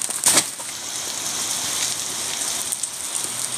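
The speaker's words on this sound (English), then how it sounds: "Well, it's raining." Steady rain patters on a surface nearby, a dense even hiss with a few louder drops near the start, heard alone without talk.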